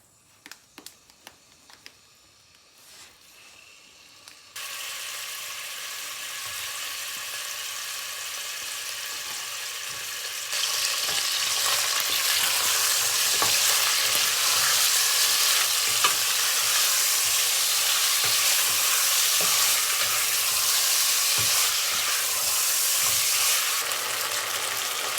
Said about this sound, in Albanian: Në tenxhere, vaj ulliri do shtojmë për një skuqje mishin komplet.